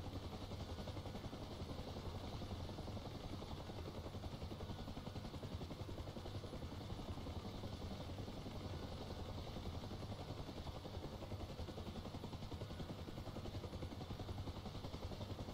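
Helicopter rotor and engine noise held steady at a landing zone while hovering behind a Chinook waiting for troops to unload, a continuous broadband drone with low thumping throughout.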